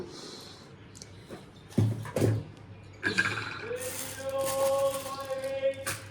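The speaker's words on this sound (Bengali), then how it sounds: "একটু ডাল ভিজিয়ে দিই" Water poured into a container of lentils to soak them, rising from a thin trickle to a fuller filling stream with a climbing pitch, after a couple of short knocks, close and alone.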